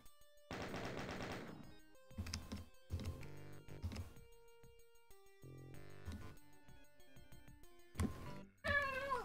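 Cats screech and meow in bursts, snarling wails broken by pauses with game music and gunfire from Doom II mixed in, loud and close.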